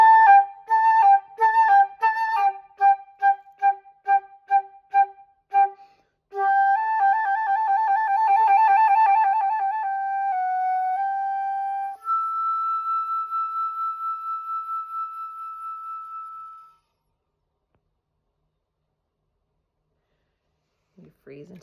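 Solo flute playing Pan from the Donjon piece from measure 38 to the end. It opens with quick staccato notes, moves into more connected phrases and closes on a long held note that fades to silence.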